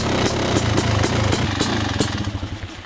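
An RM-Zilla 500 two-stroke motorcycle engine running close and loud, with rapid, regular blips of revving over a rough, rattling idle.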